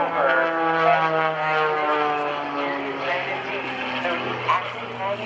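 Kevin Coleman's aerobatic propeller plane, the Poltergeist, at the 2012 NAS Oceana airshow, holds a loud, continuous engine and prop drone with shifting pitch while a commentator talks over it on the public address.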